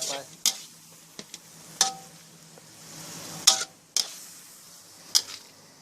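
Fish with spicy herbs and holy basil is stir-fried in a wok, a soft sizzle beneath a series of sharp metallic clacks and scrapes from the spatula at uneven intervals.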